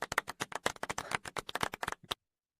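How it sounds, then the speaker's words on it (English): A soft, rapid golf clap gives a quick run of about twenty light, dry claps close by, fairly even in rhythm, then stops abruptly with silence after. "It's a golf clap, they call it."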